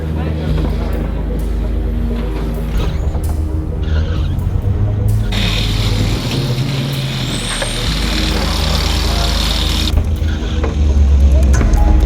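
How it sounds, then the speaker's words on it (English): A race car on a wet British circuit rumbles loudly into the pits, its steady low engine drone and spray hiss continuous, rising slightly toward the end, with voices faintly mixed in. "The Daytona veteran threaded the car into the pits"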